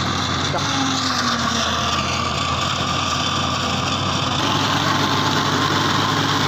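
A tractor-driven fodder chopping machine runs steadily, hooked to a 480 tractor, with a dense, continuous engine drone and mechanical whir filling the scene at close range; someone talks faintly over it.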